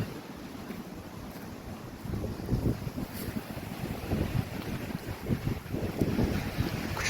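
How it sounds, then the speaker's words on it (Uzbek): Strong wind that has blown for two days gusts hard across the microphone, a steady roar that swells into heavier buffeting bursts in the second half, with no voices. "Kuchli shamol kecha bugun 2 kundan beri qattiq shamol kelyapti"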